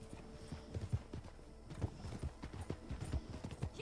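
Horse hooves clip-clopping in the video game Red Dead Online, a steady run of close, fairly loud hoofbeats with faint game ambience behind them.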